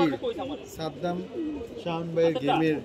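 Racing pigeons at a pigeon-flying competition coo in soft, repeated, throaty bursts close by, with a voice talking over them.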